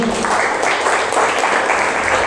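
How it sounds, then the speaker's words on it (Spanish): Church congregation applause at the close of a Christian sermon, a steady wash of many hands clapping together, loud and even throughout without a break. "Denle un aplauso al Señor."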